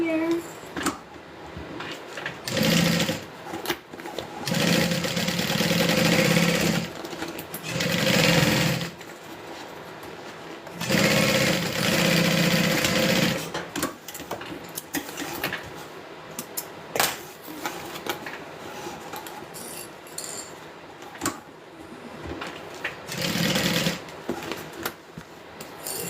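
A home sewing machine fitted with a size 18 needle stitches down a fabric Becca bag. Loud bursts of rapid mechanical whirring alternate with pauses and handling noise, and a voice talks at times between runs.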